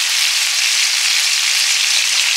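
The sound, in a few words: green chillies frying in oil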